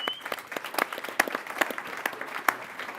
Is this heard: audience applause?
yes